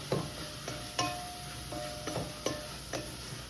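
Meat browning in a pan under a quiet background sizzle, punctuated by regular knocks and scrapes of a utensil stirring against the pan, about two per second.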